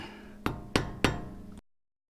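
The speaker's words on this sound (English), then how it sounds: "I'm going to start with a little flathead screwdriver. Just slowly work my way around it." A small flathead screwdriver taps and pries at a part on a 3rd gen Toyota 4Runner front axle clamshell, giving three sharp, close metallic knocks over a steady hum.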